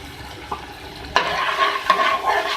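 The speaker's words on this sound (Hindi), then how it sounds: "इसको हल्का सा फ्राई करें।" Chopped green chilies and crushed red chilies fry in a pan: a quiet start, then a sudden loud sizzle and stirring scrapes, with a second burst near the end, close and without talk.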